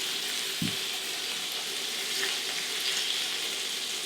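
Lamb chops frying in a pan give off a steady, close, even sizzle that fills the whole stretch, with a single dull knock near the start and no voices.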